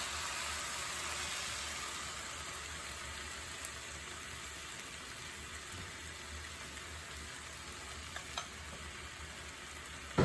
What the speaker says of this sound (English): The last step is to add in the flour and milk mixture here